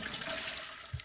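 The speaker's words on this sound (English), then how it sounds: "I love looking at this pee coming out of them" A Sims 4 game character urinates, making a brief, faint trickling stream that ends in a small splash, lasting only about a second.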